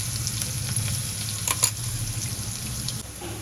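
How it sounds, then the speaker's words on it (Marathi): A paste of ginger, garlic, green chilli and cumin sautéing in hot oil with mustard seeds and asafoetida, a continuous close sizzle with a couple of brief stirring clicks in the middle. "हे वाटण छान परतून झाले बघा"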